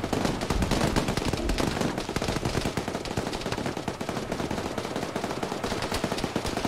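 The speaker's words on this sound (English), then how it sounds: "Well, they're still shooting, so probably." Relentless automatic gunfire in a military video game, dense overlapping bursts and shots that stay loud and close throughout with no pause.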